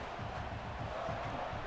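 Muffled, steady stadium crowd roar from the EA College Football 26 video game drones at a low, distant level, continuous and without distinct peaks, under a brief moment of quiet talk.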